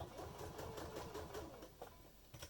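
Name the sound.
sewing machine stitching across a make-up bag seam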